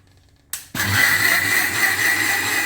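An electric mixer switches on abruptly and beats carrot cake batter with milk, whirring in a loud, steady high-pitched drone after a quiet start.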